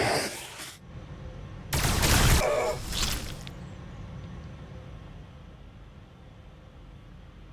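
Weapons fire from Necron units in Warhammer 40,000: Battlesector, with a short noisy burst of shots followed by a louder, longer crackling volley that fades into a steady low rumble. No one speaks.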